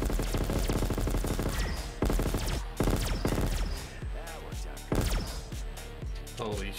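Overpowered guns fire in Black Ops 3 Zombies with the Ray5K raygun mod, rapid loud bursts of gunfire with sharp cracks punctuating a dense barrage, firing almost continuously with brief pauses.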